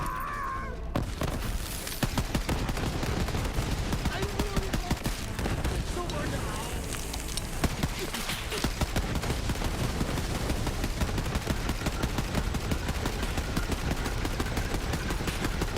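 Rapid, relentless gunfire from a weapon in Borderlands 3, a dense stream of loud, close shots with crunching impacts running almost unbroken, with talk underneath.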